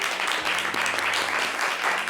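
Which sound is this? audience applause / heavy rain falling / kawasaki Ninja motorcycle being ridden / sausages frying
audience applause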